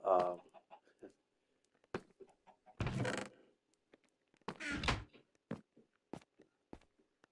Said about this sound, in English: Where's those chickens I keep hearing?